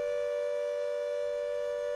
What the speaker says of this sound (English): We are hearing sirens over Warsaw.